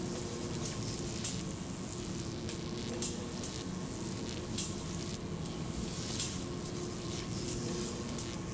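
Boiling, sparking liquid sizzling in the game Amnesia: A Machine for Pigs, a continuous loud crackling hiss with scattered sharp pops throughout and no talk.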